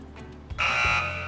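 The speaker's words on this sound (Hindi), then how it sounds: "चले तो मैं बजर्स एनेबल कर रहा हूँ।" A quiz show buzzer at a Ramadan Islamic quiz sounds once after a short click, a loud steady electronic tone lasting about half a second before cutting off, with no talking.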